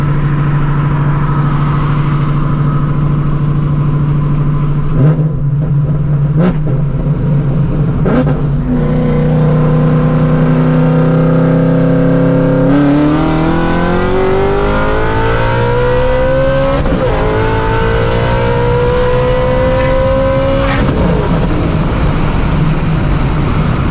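A supercharged Shelby GT350 V8 screaming through hard full-throttle pulls, the pitch climbing steadily through each gear with brief dips at the shifts, loud and continuous from inside the car with no talk.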